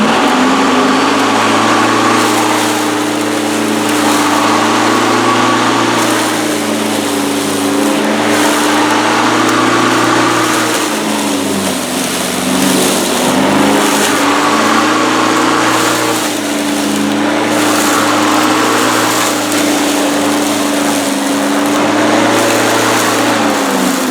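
A lawn mower engine runs steadily and loud nearby in a yard, its buzzing drone dipping and rising in load over several passes with no speech.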